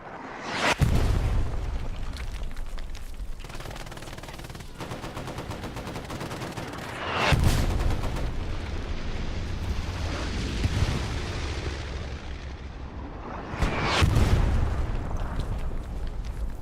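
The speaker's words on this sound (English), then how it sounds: "You can throw grenades this far?" Grenades go off in the World War II shooter Hell Let Loose as three heavy, booming blasts spaced several seconds apart. Steady battlefield rumble and scattered gunfire fill the gaps between them.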